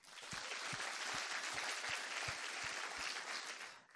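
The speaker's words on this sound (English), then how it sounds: "please, can you join me one last time this evening to applaud their magnificent work." An audience at the Jewish Schools Awards 2016 applauds, a dense, steady wash of many hands clapping that holds evenly for a few seconds before fading out.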